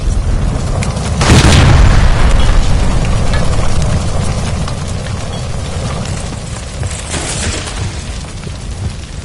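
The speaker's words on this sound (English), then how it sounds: "Shoot the gas line, Cole, we're out of here!" A gas line explodes in L.A. Noire: one loud, close boom bursts out and then settles into a long, roaring rumble of fire and debris that fades slowly, with a second smaller flare-up later and no talking.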